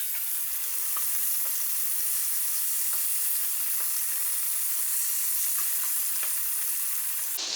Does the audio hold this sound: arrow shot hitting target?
no